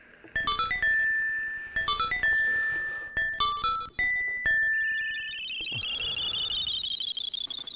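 Bright bell-like chimes from Link's Awakening ring out in quick melodic runs of clear, sustained tones, then a rising cascade of shimmering notes, loud and alone.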